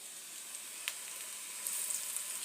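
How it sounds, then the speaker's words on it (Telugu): Alasanda vada batter frying in hot oil, giving an even, fairly quiet sizzle with a few faint pops and crackles. "ఇలా మొత్తం ఇలా వేసుకోవాలండి పిండి ఆయిల్లో."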